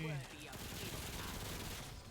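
Artillery fire in a video game, a dense, continuous barrage of blasts and booms filling the whole stretch, with a voice briefly heard at the start.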